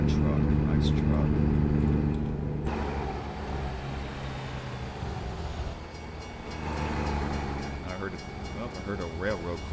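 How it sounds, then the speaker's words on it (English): A railroad crossing signal rings in American Truck Simulator on a sunny California road, sounding faint and distant beneath a steady truck engine drone, with a voice talking over it. "I heard a railroad crossing"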